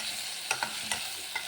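Banana pieces roasting in ghee in a pan, a soft steady sizzle broken by four quick spatula scrapes or taps nearby.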